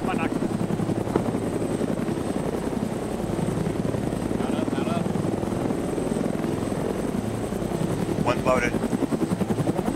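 Helicopter rotor in the Arma military game, a steady loud whirring chop that fills the whole stretch, with radio-style voices talking over it now and then.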